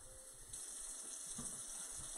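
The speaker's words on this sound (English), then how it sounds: "I'm going to add about 8 cups of water." Water pours steadily into a soup pot on a home stove, a constant close gushing stream with a faint hiss throughout.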